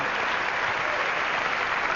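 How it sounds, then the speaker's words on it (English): Audience applause at a George Carlin comedy event in 1997, dense steady clapping from a large crowd filling the whole moment without pause. "You can applaud if you wish."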